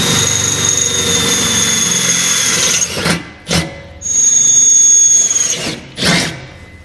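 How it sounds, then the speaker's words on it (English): A power drill with a 5/16-inch bit whines loudly and steadily as it bores holes through square slots while fitting an ATV winch to a 2018 Kawasaki Mule, stopping and restarting in several short bursts. "use a 5/16 drill bit to drill out the holes in both the square slots here at the bottom"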